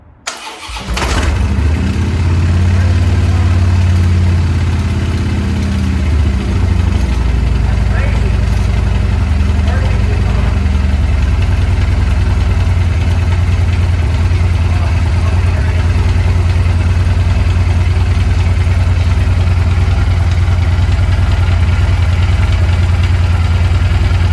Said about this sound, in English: Let's see if it starts up and still do a high rev.